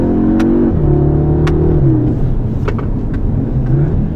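A 2024 Audi S3 Sportback with a 333 hp engine pulls hard under acceleration, its loud, close drone rising in pitch, then dropping sharply at a quick gear change before climbing again, a steady roar throughout.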